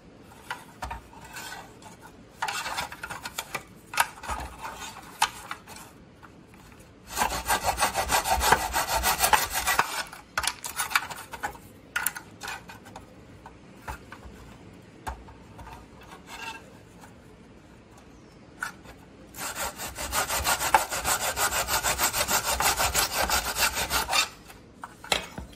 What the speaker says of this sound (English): I'm going to use my saw for that right here.